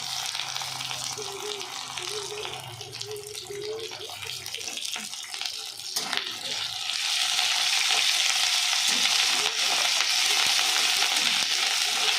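Ground ginger and cumin paste hits hot oil in a pan and sizzles, a soft frying hiss that grows louder and steadier after a few seconds of stirring and scraping, with faint voices in the background.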